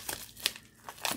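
Plastic packaging crinkles in three or four quick, close bursts as a small diamond painting kit package is opened, with no voices.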